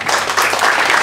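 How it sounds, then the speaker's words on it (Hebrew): Dense, loud audience applause with sustained clapping filling a lecture hall during a religious talk, steady and close throughout the short burst. "מגיע לו מחיאות כפיים."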